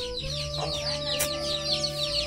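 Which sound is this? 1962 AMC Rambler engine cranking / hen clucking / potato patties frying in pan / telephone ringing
hen clucking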